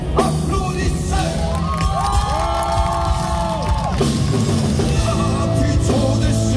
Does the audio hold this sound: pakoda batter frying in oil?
no